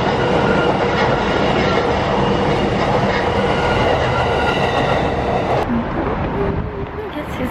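A train rumbles past close by in Tokyo, with a steady broadband roar and faint metallic rattling that thins out near the end.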